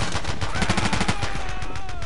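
Rapid gunfire from the Battlefield 2 video game in a 16 vs 16 match, with dense bursts of automatic shots crackling loudly and continuously over a busy battlefield din.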